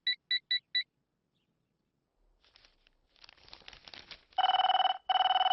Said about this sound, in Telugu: అబ్బా, ఈ ఫోన్లో చంపేస్తున్నా.